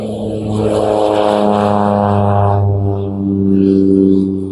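A small propeller plane taking off drones loudly and close by, its engine hum steady with a slight rise and fall in pitch as it passes.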